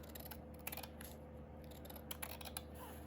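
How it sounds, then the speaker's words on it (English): Scissors trimming paper for a vintage photo accordion junk journal album, giving a few quiet snips over a steady background hum with no talk. "let me just take my scissors, just trim"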